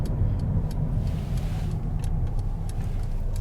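Engine of a 2022 Mercedes-AMG GLA45 hot hatch, its 2-liter four-cylinder pulling hard under throttle, a steady low rumble heard from inside the cabin with faint ticking above it.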